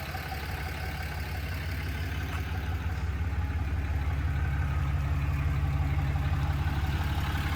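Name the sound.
Cummins diesel engine idling, 2017 Ram 2500 truck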